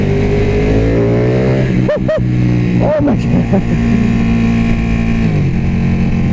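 A 2016 Ducati 1299 Panigale motorcycle engine idles with a loud, steady drone and then snaps through two quick rising revs in close succession, while a man exclaims over it.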